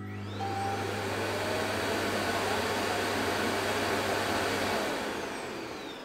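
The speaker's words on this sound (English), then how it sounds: "It's basically a vacuum turning on and it has an internal vac in there." An Ecovacs Deebot T30S docking station runs its internal vacuum to empty the robot's dustbin, a loud, steady whooshing roar with a low motor hum that holds evenly for several seconds before tapering off.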